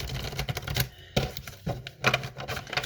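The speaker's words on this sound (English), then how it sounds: "I'm going to do another shuffle and see what else we've got for you." A deck of tarot cards is shuffled by hand at close range. The cards give off quick bursts of crisp clicking and flapping in uneven clusters, with short pauses between.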